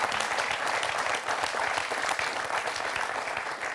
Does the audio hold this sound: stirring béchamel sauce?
no